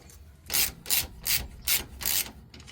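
Ratchet wrench tightening the lower sway bar bolt on a Sprinter 2500, five quick rhythmic clicking strokes up close, fairly quiet.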